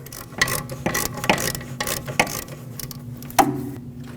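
A Lexus IS250 brake caliper bolt is unthreaded with a ratchet, giving a series of close, dry metallic clicks and short ratcheting bursts at an uneven pace, with a quiet pause before a final click.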